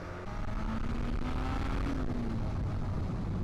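A Yamaha XJ600 motorcycle accelerates hard in second gear as the throttle rolls on, its engine note climbing steadily in pitch, loud and close, with continuous road and wind roar and no talking.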